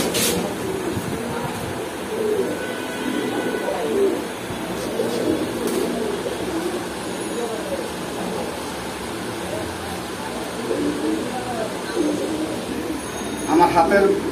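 Pigeons coo in a crowded pigeon shop at Kaptan Bazar, low repeated calls running steadily through the scene beneath constant background chatter and market noise.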